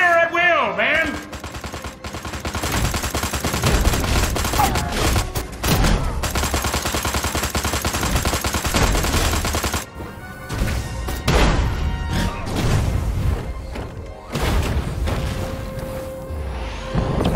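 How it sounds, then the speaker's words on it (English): Dense, continuous barrage of explosions and rapid gunfire from the alien shooter game Destroy All Humans!, loud and relentless with crashing booms throughout, while someone talks excitedly over the chaos. "Whoa, that's a lot of explosions."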